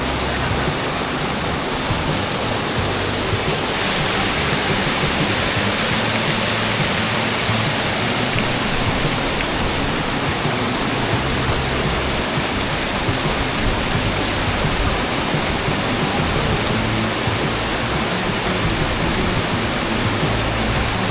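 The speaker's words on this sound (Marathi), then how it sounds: "हे बघा फायनली वॉटरफॉल जवळ आलेलं आहे." A monsoon waterfall near the Ganpati Gadad caves roars as a loud, dense, unbroken rush of falling water from close by, steady for the whole stretch with no voices.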